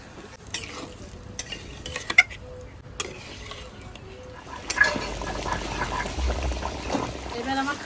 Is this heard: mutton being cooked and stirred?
yes